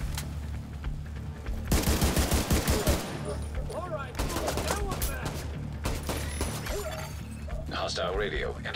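Dense automatic gunfire in The Division 2, loud rapid bursts of shots with crashes and impacts, close and continuous through most of the stretch while a voice talks over it.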